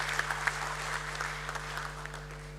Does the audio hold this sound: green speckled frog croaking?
no